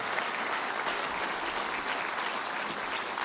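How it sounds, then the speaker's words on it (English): A conference audience applauds Italian Prime Minister Meloni at a Ukraine recovery meeting in Rome, a dense, steady wash of clapping from many hands throughout, with no voices over it. "Applause for Prime Minister Meloni."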